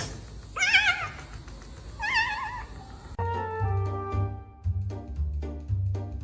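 A pet cat named Suede meows twice, loud and close, in rising wavering cries. Then a steady run of tonal background music takes over.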